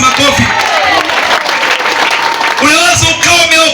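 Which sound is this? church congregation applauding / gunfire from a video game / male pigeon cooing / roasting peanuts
church congregation applauding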